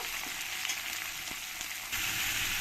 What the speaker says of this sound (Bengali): কুচানো পেঁয়াজগুলোকে আমি লাল লাল করেই ভেজে নেব